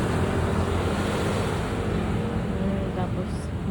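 Steady broadband wash of sea surf rolling onto a provincial shoreline, constant and fairly loud throughout, mixed with some wind rumble and no clear separate wave breaks.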